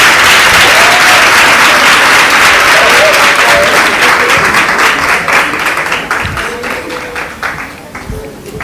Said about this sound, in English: Give them a round of applause for Sokaisa Senior Secondary School.